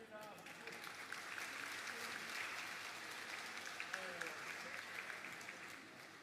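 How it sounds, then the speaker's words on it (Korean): Steady applause from a church congregation at a Sunday service, running throughout, with scattered voices and a few faint tonal sounds mixed in. "박수하겠습니다."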